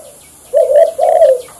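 Decoy spotted doves kept for bird trapping give two close, mellow cooing phrases in quick succession after a brief quiet start, with no voices.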